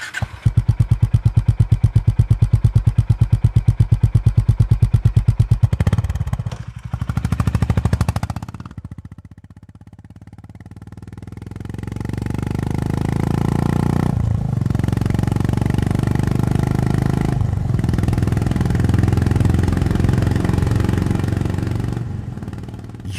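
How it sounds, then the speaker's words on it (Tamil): A Honda 500cc motorcycle revs hard with a rapid, rattling exhaust pulse, then drops off and returns as a deep, steady roaring drone that rises and swells, loud and close with no talking. "டீசரில் வண்டியோட எக்ஸாஸ்ட் நோட் கேட்கும் போதே செம்மையாக இருக்குது"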